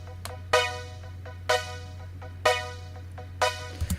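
A wavetable synth with filter modulation joins other layered synth tracks, sounding bright rhythmic stabs about once a second with softer in-between notes over a sustained low drone, without speech.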